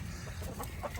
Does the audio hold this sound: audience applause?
no